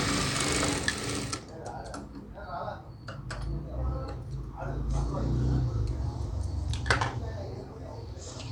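A sewing machine stitching saree fabric runs in short mechanical bursts with a ticking, rattling rhythm, close by, while a person talks over it.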